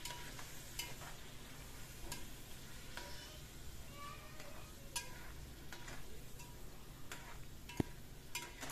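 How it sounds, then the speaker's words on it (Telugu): Chicken pieces frying in a cooking vessel for biryani, a faint continuous sizzle with occasional soft stirring scrapes and light clicks, no voices. "ఫస్ట్ అయితే చికెన్ పచ్చి వాసన పోయేంత వరకు ఆ చికెన్ అలా ఫ్రై చేసుకోవాలి"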